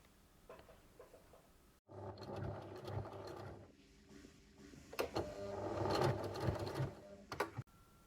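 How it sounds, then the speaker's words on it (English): A domestic sewing machine backstitches along a fabric edge, reversing and then stitching forward, giving bursts of steady whirring mechanical stitching with a brief pause between runs, close and fairly quiet. "we're going to reverse back to the beginning of the edge of that fabric, and then you're going to let go and then stitch forward again"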